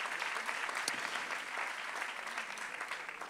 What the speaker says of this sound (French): ça mérite bien vos applaudissements